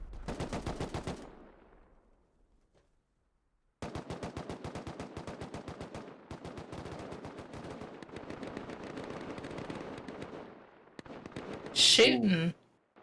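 Rapid automatic gunfire rattles out in long bursts during a Rust 6v6 tournament match, broken by a short silence, with a loud sharp effect near the end and a voice talking over it.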